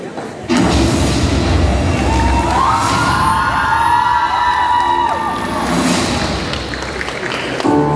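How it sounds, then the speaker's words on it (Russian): Audience at a university singing contest sends off a contestant with a loud, sustained wave of cheering and applause that fills the room nearly the whole time, with crowd shouts and whoops rising over the clapping. "Уважаемые зрители, провожаем аплодисментами Елену"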